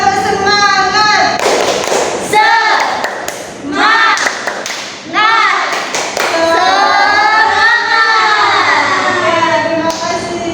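A class of tenth-grade students repeating the 'tepuk semangat' spirit clap: loud unison chanting by many young voices interlaced with rhythmic bursts of clapping and thuds, close and energetic, with short gaps between chanted lines.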